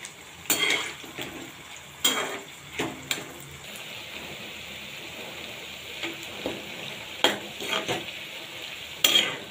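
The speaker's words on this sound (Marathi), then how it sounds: "आपण हा कांदा आता चांगला पूर्ण ब्राऊन होईपर्यंत तळून घेऊया" Three large onions frying in a pan for chicken biryani, a steady sizzle broken by repeated sharp scrapes and clinks of a spatula stirring against the pan, close and alone with no voices.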